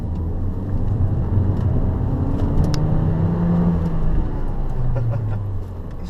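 A 2014 Peugeot 208 GTI with a 1.6 litre turbocharged engine of just under 200 horsepower, running steady and near, its pitch sweeping up and down through light revving before the note tails off at the end.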